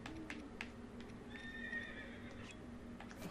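A horse in the video game Breath of the Wild whinnies in a drawn-out, wavering neigh lasting over a second, with clip-clop hoof sounds and soft game ambience around it; no one talks.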